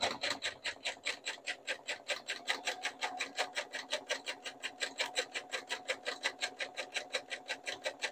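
A sewing machine runs a straight stitch through stretch knit fabric, a fast, even rhythmic chatter of needle strokes repeating steadily from start to finish, close and fairly quiet.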